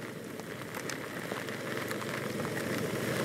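Heavy rain from an afternoon thunderstorm in Saigon pours down in a dense, steady hiss that grows slightly louder toward the end, with no talking.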